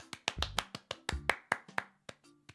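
Sharp, hand-slap-like transients in an irregular burst of about fifteen hits over a couple of seconds, close and fairly loud, with no talking.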